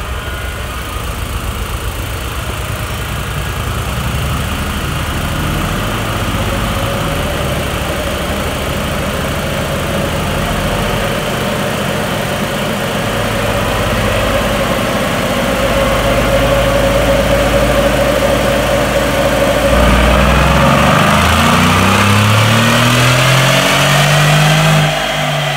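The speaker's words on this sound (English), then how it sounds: "we're gonna run it again so you can hear the growl of the new exhaust system" Mercedes G Wagon engine growling through a new exhaust system, a steady loud drone that swells as the revs climb toward the end, with a deeper rumble in the final seconds and no one speaking.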